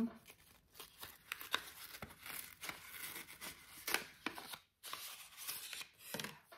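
Mail packaging torn open by hand with close, crisp ripping and crinkling of paper and plastic in repeated bursts, briefly pausing before more tearing.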